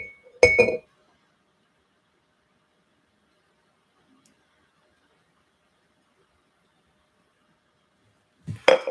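Glass cups clinking together, two short bright clusters of ringing taps, one near the start and one at the end, close and clear with near silence between them.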